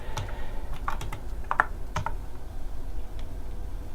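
Code being typed on a computer keyboard: a close run of quick, uneven key clicks over a quiet room background, with no speech.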